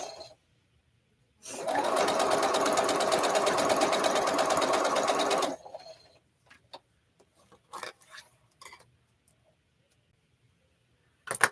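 A sewing machine stitches a quilt block together, running in one fast, steady burst of rapid mechanical ticking for about four seconds, then stopping and leaving scattered small clicks and handling noises.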